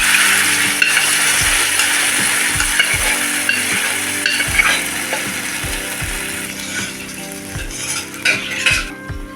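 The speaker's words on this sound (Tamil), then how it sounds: "இது லைட்டாக வதங்கட்டும்" Onions sauté in a pan with tur dal, a constant loud sizzle and crackle broken by a steady run of metal spoon scrapes and clinks against the pan.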